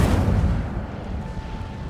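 Incendio fire spell from Hogwarts Legacy, a loud booming burst of flame at the start that rumbles and decays over two seconds, with a faint steady tone running underneath.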